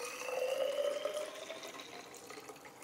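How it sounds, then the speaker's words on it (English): Homemade oat milk pours steadily into a glass bottle, a continuous close liquid stream with a rising filling tone, fairly quiet and without talk. "And now we're just going to pour into our glass bottle."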